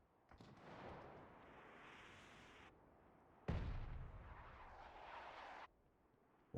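Mortar fire during a PUBG esports match: a broad, distant rumbling blast that fades, then a second, heavier boom with a deep low thud, both faint overall and with no commentary heard over them.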